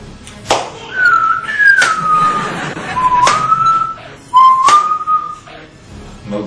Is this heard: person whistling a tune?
yes